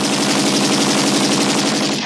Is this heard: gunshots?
yes